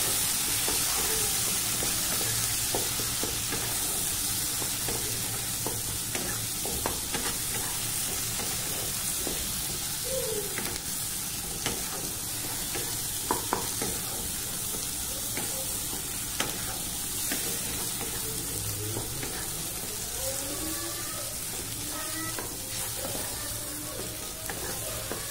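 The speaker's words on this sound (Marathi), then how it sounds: "तुम्ही बघू शकता हे मसाला कसा भाजतोय आपला." Chole masala roasts in a hot pan with a steady, close sizzle and hiss. Occasional scrapes and clinks of stirring break through the sizzle, and no one speaks.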